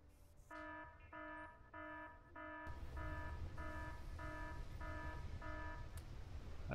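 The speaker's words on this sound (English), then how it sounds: "I don't like that alarm." Repeating alarm in the video game Factorio, a steady buzzing electronic tone pulsing in even beats, quiet under a hiss of background game noise.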